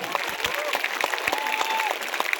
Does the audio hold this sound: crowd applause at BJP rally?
yes